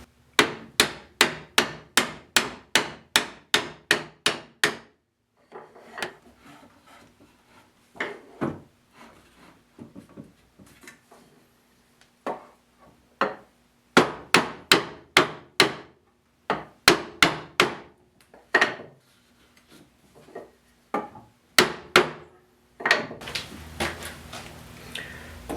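A metal rod being hammered through a tight hole in a wooden folding kitchen stool, with bursts of sharp, loud, evenly spaced blows separated by quieter knocks and handling, close up and without speech.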